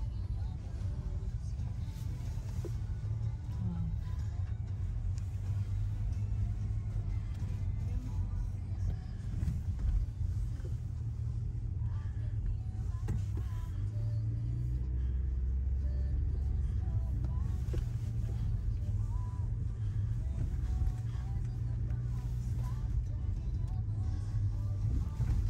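A car drives along the road onto a base, its engine and tyres making a steady low rumble inside the cabin that continues throughout, with a person talking intermittently over the drone.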